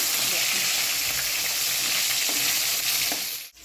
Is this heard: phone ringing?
no